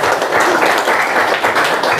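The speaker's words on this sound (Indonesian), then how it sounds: "Tepuk tangan dulu untuk piket hari ini" Schoolchildren in a classroom clapping for the students on cleaning duty, a loud, close burst of many small hands patting together for a couple of seconds.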